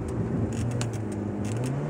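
A 2010 Chevrolet Impala engine held at wide open throttle, with a steady low drone and strong harmonics throughout, a car that has major rattles, sounding loud and close with no talk.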